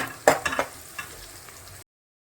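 Ginger paste and garlic frying in hot oil in a pan, a short burst of sizzling with a few stirring clatters near the start, then a steady softer hiss before cutting off.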